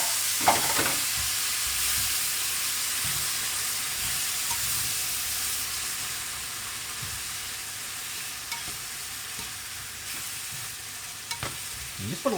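Drained black beans and tinned tomatoes bubble and sizzle in a pan as the filling for chimichangas thickens, a steady close hiss with occasional stirring scrapes.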